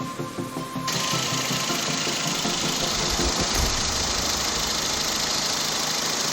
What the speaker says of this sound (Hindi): देखो स्टार्टिंग कंप्रेसर